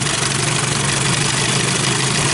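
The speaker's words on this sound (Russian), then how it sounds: "Обороты поднимаются. Двигатель сильно колбасит, богатая смесь." Evinrude Johnson outboard motor running rich, a loud, steady, rough drone with an uneven, lumpy beat, held close and constant throughout with no voices.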